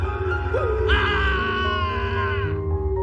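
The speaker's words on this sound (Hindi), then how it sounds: "गुल्ली, ये तो शॉन की चीख है ना?" A cartoon character in a horror story with zombies lets out a loud, drawn-out scream that rises sharply and holds for over a second before fading, over a low background rumble.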